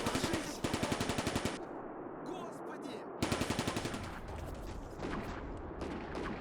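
Two long bursts of rapid machine-gun fire in the Combat Mission: Barbarossa to Berlin war game, loud and close with a rumble of battle between them, and faint talk under the noise.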